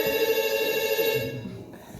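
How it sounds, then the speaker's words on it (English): A telephone rings in a stage play by a drama club, a steady electronic ringing tone that carries through the first part and then fades, with no talking over it. "It's just my phone."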